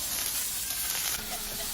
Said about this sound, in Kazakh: Тағамымызды қыздырып, оның үстіне ұсақтап тураған пиязымызды салып қуыратын боламыз.